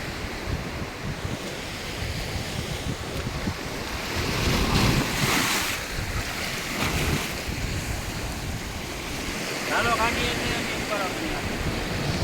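Sea waves roar and surge along a shore under steady wind buffeting the microphone, a dense continuous wash of surf that swells louder midway.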